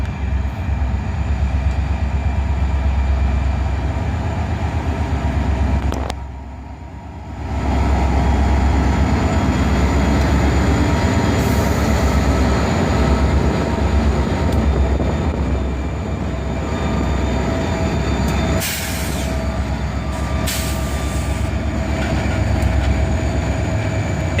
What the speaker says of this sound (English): An SD43 rebuild leads the train, with an SD42 originally built for the Seaboard Coastline trailing